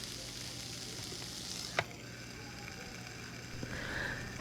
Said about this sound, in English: So I'm putting that on the grill.